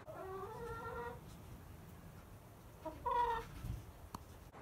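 Faint rooster and clucking calls, a couple of short crowing notes against a quiet outdoor background.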